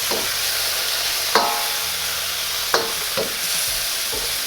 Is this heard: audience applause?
no